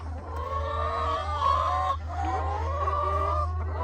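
Backyard chickens give drawn-out, tonal clucking calls close by, one after another, over a constant low hum.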